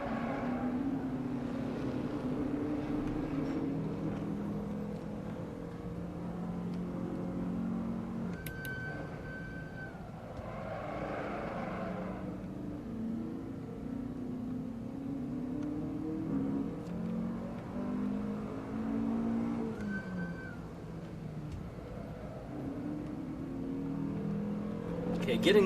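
A car engine revving hard on a lap of Brands Hatch Indy circuit in Assetto Corsa, its droning note climbing and dropping through gear changes with a steady, continuous roar.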